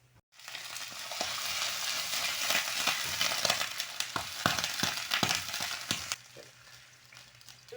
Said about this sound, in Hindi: 2 टेबल स्पून भर के मैंने ऑयल डाल दिया। अब इसको मैं गोल्डन करती हूँ, थोड़ी सी भून जाए